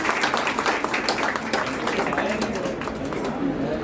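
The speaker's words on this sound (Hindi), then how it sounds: "तालियां तो बजा दीजिए भाइयों के लिए।" An audience claps for a group at a spiritual discourse session, with dense, steady applause filling the whole stretch, fairly loud and close.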